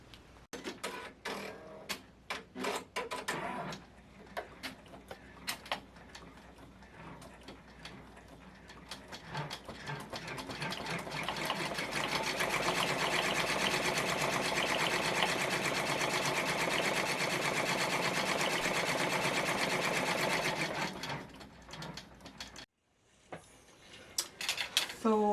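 An embroidery sewing machine stitches a Christmas card design, starting with scattered needle taps and settling into a loud, steady mechanical chatter that stops abruptly near the end before a few clicks.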